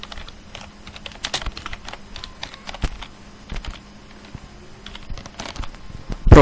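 Fingers type on a computer keyboard while writing C++ code, with irregular bursts of close, crisp key clicks and a louder thump at the end.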